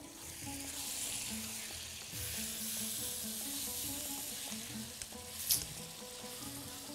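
Onion and chicken fillet sizzle and fry steadily in a pan while being stirred, with scraping and clinking of the utensil against the pan throughout and a brief sharper clatter near the end.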